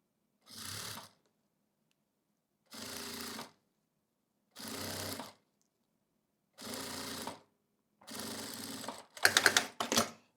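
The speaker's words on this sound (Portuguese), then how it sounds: "Eu vou passar uma costurinha de segurança aqui para poder prender a minha cianinha." Sewing machine stitching a safety seam to hold rickrack trim on tricoline fabric for a zippered pouch, running in five short separate bursts with pauses between, the last one faster and louder, with no talking.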